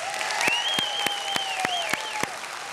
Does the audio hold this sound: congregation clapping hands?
yes